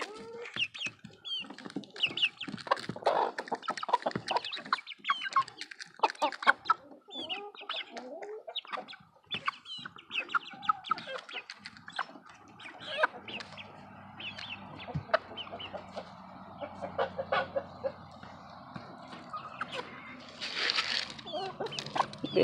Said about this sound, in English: Harry, why are you clucking like a girl?